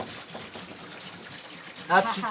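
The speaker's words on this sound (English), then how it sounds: "That's a regular shower right there for you, normal shower" An off-grid outdoor shower in the woods sprays a steady, moderate hiss of water that swells slightly near the end, with no talk over it.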